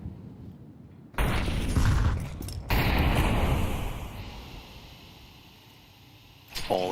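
Gunfire in a Counter-Strike match: a loud burst of rapid shots starts abruptly, cuts out, then resumes and slowly fades, with another sharp volley at the very end.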